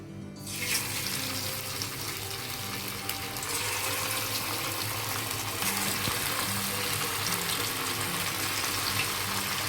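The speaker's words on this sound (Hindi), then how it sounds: "अब मैं चिकन को इसमें डीप फ्राई कर लूँगी।" Chicken deep frying in hot oil gives a loud, steady, rushing hiss with fine bubbling that starts abruptly and holds evenly throughout, close up.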